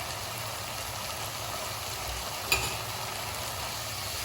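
Sweet mung bean filling with dry ginger, cumin and cardamom powder cooks in a pan, giving a soft continuous sizzle with one brief clink of a spoon midway; no voices.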